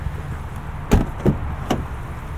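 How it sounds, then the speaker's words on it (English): Three short mechanical clunks from a 2024 Mazda CX-50 as its rear door is unlocked and opened, spaced under a second apart over a low steady hum. "Oops, we gotta unlock all of our doors."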